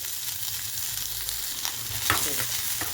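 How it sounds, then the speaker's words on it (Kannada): Onions frying in oil in a home kitchen pan, a steady close sizzle with a few stirring scrapes and clinks rising briefly near the end. "ಈರುಳ್ಳಿ ಹಾಕ್ತಾಯಿದ್ದೀನಿ ಎಣ್ಣೆಗೆ"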